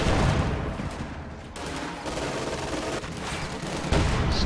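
Sustained automatic gunfire in a video game: a dense, continuous stream of light machine gun and pistol-calibre machine gun bursts rattling steadily and loudly, with no voices.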